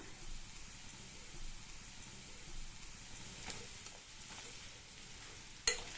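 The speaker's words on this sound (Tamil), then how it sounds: "அடுத்து இதில் கறிவேப்பிலை சேர்த்துட்டு லைட்டாக ஒரு பரட்டி விட்டுட்டு கட் பண்ணி வச்ச டர்னிப்பை சேர்த்துக்கலாம்." Curry leaves and chopped turnip are sautéed in a pan, a faint, quiet sizzle with soft stirring scrapes and one sharp clink near the end.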